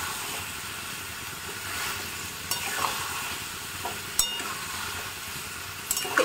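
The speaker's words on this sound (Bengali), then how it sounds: "এরকম করে মিনিট খানেক আমি কষিয়ে নেবো, তো এটা গ্যাসের সিমটাকে ফ্লেমটাকে মিডিয়ামে রেখে আমি কষিয়ে নেব।" Cauliflower, potatoes and peas stir-frying in a pan over a medium gas flame, a soft steady sizzle with occasional spoon scrapes and taps, close and fairly quiet, no voices.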